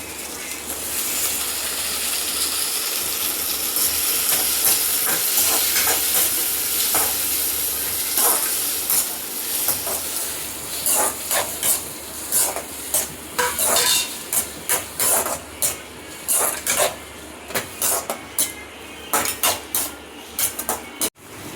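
Tomatoes tossed into a hot pan fry with a steady, loud sizzle, then stirring breaks it into a series of sharp, rhythmic scraping bursts close by, with no one talking.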